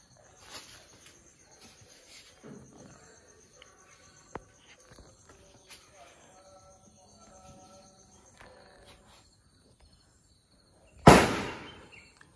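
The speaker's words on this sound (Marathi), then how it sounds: "बघ युवराज फटाके फोडतोय." During Ganesh Chaturthi celebrations, a firecracker bursts with one loud, sharp bang late in the clip after a stretch of quiet outdoor ambience, faint rustling and distant noises.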